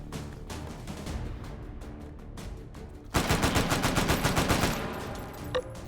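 A .308 firearm in the VR shooter H3VR fires a rapid automatic burst of loud, evenly spaced shots for about a second and a half, then cuts off, with faint scattered shots before it.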